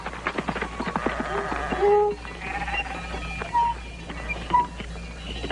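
Sheep bleat in a shelter set into a recess of a plateau, several short wavering calls scattered across the scene at moderate distance, over a low steady rumble with a voice talking softly underneath.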